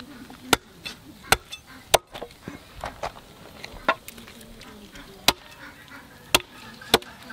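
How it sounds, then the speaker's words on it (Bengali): Sharp, irregular thwacks of a cleaver chopping through the bones of a large 6.6 kg turkey ring out close by, with quieter knocks and scraping between the heavier strikes. "চাপসে করে একটু কেটে নেবো হাড়গুলা"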